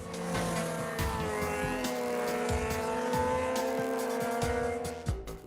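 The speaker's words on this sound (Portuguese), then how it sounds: "O carro da nossa equipe está a 90 km por hora, limite máximo neste trecho da rodovia Fernão Dias, e é ultrapassado por várias motos." Steady road roar from a car cruising at 90 km/h on the Fernão Dias highway as several motorcycles pass, their engines whining up and fading with tire noise, loud and continuous.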